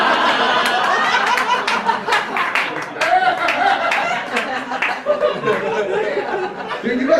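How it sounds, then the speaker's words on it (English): Comedy-show audience clapping in a dense, lively patter, mixed with chuckles, laughter and crowd chatter, while a voice speaks over it toward the end. "Why are you clapping?"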